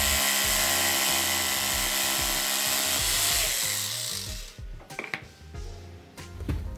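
A Gema 86280 jigsaw cuts through wood with a loud, steady buzzing whine that stops after about four seconds, followed by light clattering and handling knocks nearby.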